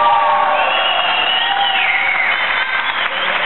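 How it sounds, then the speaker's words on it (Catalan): Audience at a Pyrenees school quiz final applauds and cheers steadily throughout, a dense wash of clapping with whoops rising over it, with no speech. "Un fort aplaudiment per ell."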